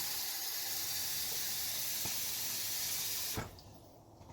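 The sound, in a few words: hot water filling a container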